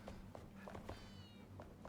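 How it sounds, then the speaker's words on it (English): Soft cat meows in the video game Enshrouded, several short faint calls over a quiet game background with light footstep-like taps. "Yeah, kitty."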